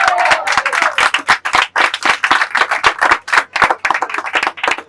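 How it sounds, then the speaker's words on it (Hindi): Dense, steady clapping from a church congregation fills the whole stretch, loud and close, with the rhythm of many hands overlapping and no voices over it. "सब प्रभु की महिमा की तालियां देंगे लोग।"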